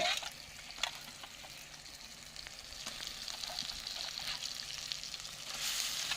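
Chicken pieces hit sizzling spiced oil in a clay pot, giving a steady, fairly quiet crackling fry with a few brighter pops and stirring scrapes, and no one talking.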